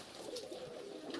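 Pigeons cooing inside a pigeon loft, soft repeated low coos with faint flutter, fairly quiet and without any voices.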